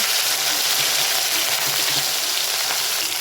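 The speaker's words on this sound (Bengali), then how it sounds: "তেল গরম হয়ে গেছে, এখন রসুন কুচি দিয়ে দিব। তারপর শুকনো মাছ, লঙ্কা কুচি" Chopped garlic, dried fish and chili hit hot oil for a taro-flower dish, producing a loud, continuous crackling sizzle heard up close and uninterrupted.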